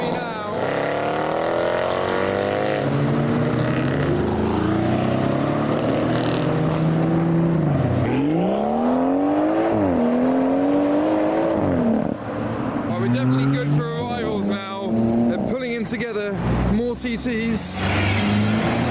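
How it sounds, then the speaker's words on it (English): German cars with warm engines arriving at a car show, revving loudly and rising and falling in pitch as they pull in, with sharp pops and crackles toward the end and a commentator talking over them. "That's the beauty of cars arriving. All the engines are already warm, so flames are going to happen."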